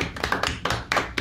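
A few hands clap in a quick, uneven burst, about six or seven sharp, close claps over a second or so.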